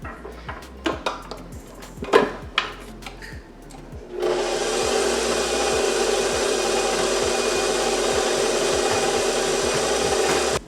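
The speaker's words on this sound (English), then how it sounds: "I have my paddle attachment on my mixer, so I'm gonna go ahead and mix this up" A stand mixer with a paddle attachment mixes honey wheat bread dough, starting after a few seconds of scattered clicks and clatter with a steady, loud motor whir that holds unbroken to the end.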